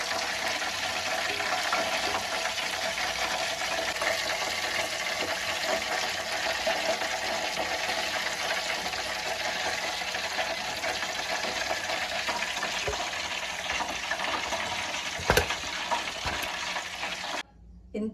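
Chicken sizzling in a pan over a low flame, a steady hissing crackle that carries on without a break, with a few faint clinks near the end and no talking.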